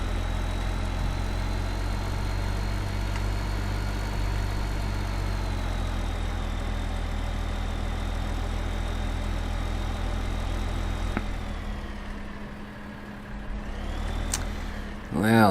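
A tractor engine idles in Farming Simulator 15 with a steady low drone and a constant hum above it, which dips and shifts near the end.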